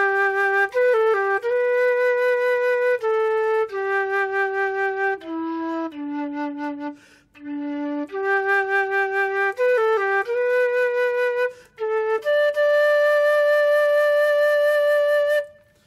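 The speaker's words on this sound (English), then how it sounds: "So on the flute, Amazing Grace can sound like this." Amazing Grace played solo on a concert flute, a slow, legato melody of sustained, breathy notes with gentle phrasing, close and clear with no accompaniment.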